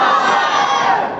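A large crowd at a Ramadan religious gathering roars a loud, sustained chant in unison in reply to a takbeer call, a dense wall of voices lasting over a second without a break.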